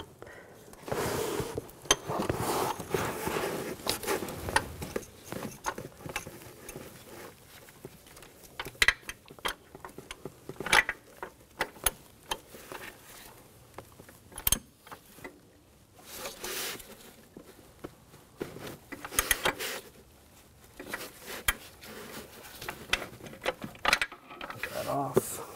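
Ratchet tightening an oil pressure switch on a 2004-2009 Audi A4 Quattro 2.0L: quiet, close clicking ratchet strokes in irregular bursts, with mechanical rattles and pauses between.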